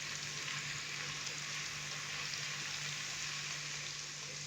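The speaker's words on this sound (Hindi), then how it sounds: "लहसुन के पेस्ट को हम हल्का सा फ्राई करेंगे, जस्ट 30 सेकंड के लिए" Garlic paste frying briefly in a pot for a chicken yakhni broth, a continuous even sizzle with faint stirring, close and steady throughout with no talk.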